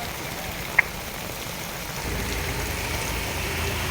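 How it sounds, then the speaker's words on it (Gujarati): Heavy early-morning rain falls over an open ground in Kodinar town: a steady, even wash of rainfall with one sharp drip-like tick near the start, growing slightly fuller in the second half. "ખૂબ જ સારો વરસાદ પડવાના કારણે 3 વાગ્યાથી વરસાદ ચાલુ છે રાત્રિના"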